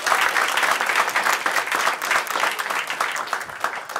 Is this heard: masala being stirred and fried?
no